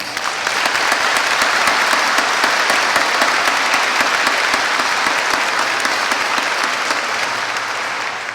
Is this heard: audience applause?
yes